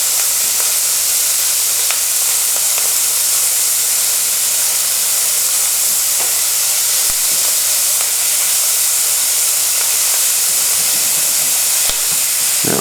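Ingredients for a Christmas quiche Lorraine fry in a pan with a steady, loud hiss and sizzle that holds throughout, with faint scrapes as they are moved around.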